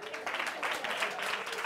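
Audience at a variety show clapping their hands together, a steady dense wash of applause with cheering voices mixed in, filling the room throughout.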